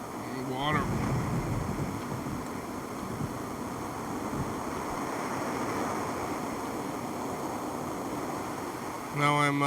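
Water washes and laps around a boat, with steady broadband wind noise buffeting the microphone throughout and a few brief tonal bursts near the start and end.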